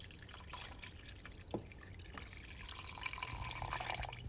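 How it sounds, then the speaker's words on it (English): Water poured into a soup pot of bone broth for vegetable beef soup, a soft steady trickle and splash with a few faint drips, fairly quiet and continuous throughout. "And I'm also going to add some water."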